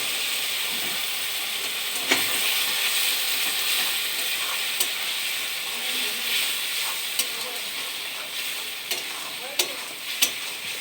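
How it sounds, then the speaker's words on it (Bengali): Spices fry in a pan after water is added, giving a steady close hiss and sizzle with occasional clicks and scrapes from stirring. "জল দিব, জল দিয়ে একটু কষাবো ভালো করে।"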